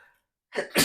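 One sharp, close sneeze bursts out after a moment of silence, an inhaled catch and then a forceful explosive release, following a trailing bit of talk.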